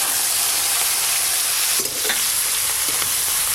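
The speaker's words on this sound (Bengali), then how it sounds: "তাই তাই প্রথমে চিংড়ি মাছগুলো ভেজে নেব" Prawns fry in well-heated oil for a fish and poppy-seed curry, a dense, even sizzle and crackle close up, with a few brief stirring scrapes partway through and no voices.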